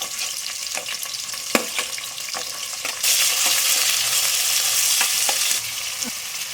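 Chopped onions hitting hot oil in a pressure cooker for chicken biryani, a close, crackling sizzle with stirring clicks that swells into a louder, steady hiss halfway through.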